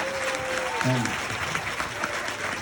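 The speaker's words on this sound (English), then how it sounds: "please, a round of applause for Tom and David." Loud applause from a crowd, steady clapping filling the room, with a brief tonal whine near the start.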